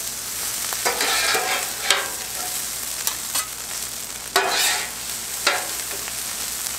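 Fried rice being stirred and scraped across a hot griddle, a steady loud sizzle broken by several sharp spatula strokes and scrapes, with no talking.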